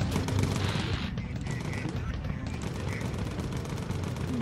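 Defensive machine guns rattle from a World War II bomber in the Bomber Crew video game, a dense, loud and continuous stream of rapid fire with a steady roar of battle noise beneath.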